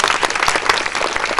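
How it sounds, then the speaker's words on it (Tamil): A Koothu Pattarai drama audience claps loudly for the cast, a short burst of dense, close applause with distinct individual hand claps. "அவங்களாம் கட்டாயமாக பெரிய கைத்தட்டி கொடுக்கணும்."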